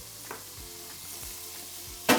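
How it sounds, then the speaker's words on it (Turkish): Butter melts and sizzles steadily in a pan while a Turkish-style bulgur pilaf with kavurma is being started, a soft continuous frying hiss with faint stirring taps and a brief louder scrape at the end. "Şimdi arkadaşlar tereyağımızı koyduk. Tereyağımız erimeye başladı."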